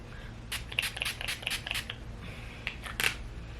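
Mario Badescu Rose Water setting mist sprayed from a pump bottle, several short, close hissing spritzes in an uneven run with a final burst after a pause, with no one talking.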